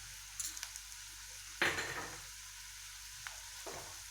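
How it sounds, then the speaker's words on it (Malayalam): Ginger garlic paste sautés in a pan for butter chicken with a soft, quiet sizzle, broken by one clear scrape of a spoon partway through and a few faint taps. "ആ വെളുത്തുള്ളിയുടെ ഇഞ്ചിയുടെയൊക്കെ പച്ചമണം ഒന്ന് മാറുന്നത് വരെ നമുക്കൊന്ന് വഴറ്റി കൊടുക്കാം"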